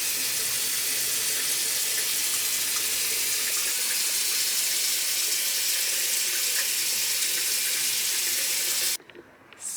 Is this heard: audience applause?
no